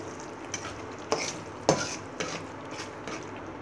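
Spice paste sautéed with a splash of water, salt and turmeric in a Bangladeshi kitchen, giving a steady soft sizzle broken by a few sharp scrapes and clinks of a spoon against the pan.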